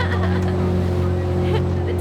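A sailing catamaran's engine running hard at speed with a small tender towed behind, a steady loud droning hum with constant rushing water, continuous and close throughout.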